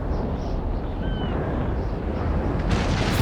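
Naval cannon broadside in Empire Total War, a dense continuous rumble of overlapping booms that swells and sharpens near the end, loud and close with no voices over it.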